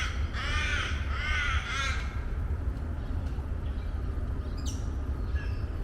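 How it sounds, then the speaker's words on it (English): Crows caw in a close series of harsh calls, then fall quieter, with fainter scattered bird calls over a steady outdoor background at a camp in Kuitpo Reserve, South Australia. "So many birds."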